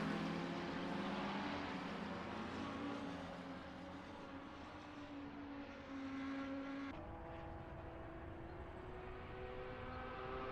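Lamborghini race cars at speed on Road America in a racing sim, engines droning steadily with rising and shifting pitch, moderately loud, with an abrupt change in tone partway through and no talking.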